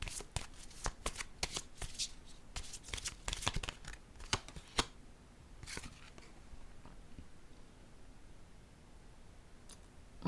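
Playing cards from a pink-card deck being handled and shuffled close up, with crisp riffling clicks and snaps in bursts through the first half, then sparser soft card sounds, no talking.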